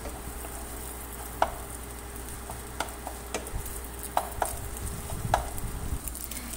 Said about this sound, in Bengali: ডিমের ভুজিয়া বা ঝুড়ো করে ভেজে নিচ্ছি।